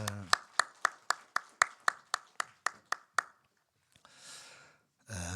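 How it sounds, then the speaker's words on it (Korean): A church congregation at a Sunday worship service claps in unison, about a dozen sharp, evenly spaced claps in a brisk rhythm, then a pause of near-quiet broken by soft rustling and breath. "힘차게 박수하십시다"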